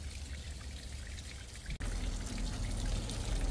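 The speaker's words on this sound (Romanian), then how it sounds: "Arunc zeama asta" Cooking water from boiling turkey meat poured out of a pot, a steady close rush of liquid with a brief break midway, then continuing, no talk.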